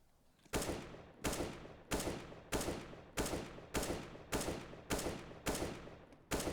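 Counter-Strike: Global Offensive gunfire after a counter-strafe: nine sharp, loud shots spaced evenly at about two per second, each with a short decaying tail, with no talk.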